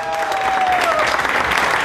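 Friends and supporters in a Bavarian inn applaud a newly elected mayor, loud and close, a dense sustained clapping with a brief whistle-like tone early on and faint crowd voices underneath.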